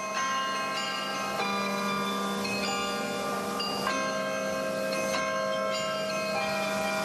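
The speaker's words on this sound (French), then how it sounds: "c'est bien le grand-oncle de Danny Boone qui jouait le carillon de Bergues" Carillon bells ring from the Bergues belfry, a steady sequence of sustained tuned tones overlapping in a continuous melodic peal, loud and close with long ringing decay and no voices.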